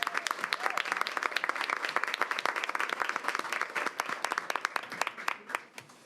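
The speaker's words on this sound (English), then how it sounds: "Please give these young people another round of applause." Applause at a school board of education meeting for a group of young people: a room full of people claps steadily and fairly quietly for several seconds, tapering slightly at the end.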